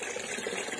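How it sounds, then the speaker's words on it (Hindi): Homemade liquid is poured into about 10 litres of water, a soft continuous gush and splash at close range, faint and steady throughout. "देखिए ये मैं पानी में डाल रही हूँ, ये 10 लीटर पानी है"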